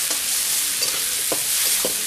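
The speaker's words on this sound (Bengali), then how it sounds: "তেলটা গরম হয়ে গেছে। আমি এবার পেঁয়াজগুলো দিয়ে দিচ্ছি।" Chopped onions frying in hot oil give a loud, dense, continuous sizzle up close, with a few soft scraping stirs breaking through, no speech.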